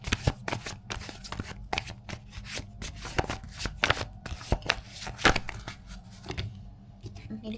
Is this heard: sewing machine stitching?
no